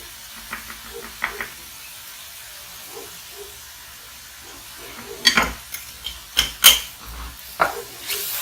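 Mushrooms hiss and steam softly in a hot pan, with light stirring and scraping clatter near the end bringing a few louder, sharper bursts of sizzle.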